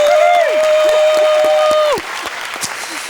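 Applause welcoming Anna Wetterbom to a science session stage, with claps sounding under a steady sustained tone that cuts off partway through, leaving scattered claps alone.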